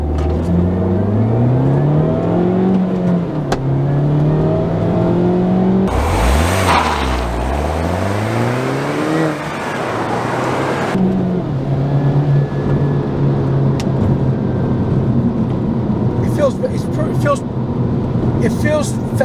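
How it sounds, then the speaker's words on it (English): A stock-exhaust 2010 Mini Cooper S (R56) pulls away from a stop, its engine note rising steadily through gears with a gear-change dip, recorded from inside the cabin, with talking over it. "Let's do a pull from stop. I'm not gonna rev it hard or nothing."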